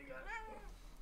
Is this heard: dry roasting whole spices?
no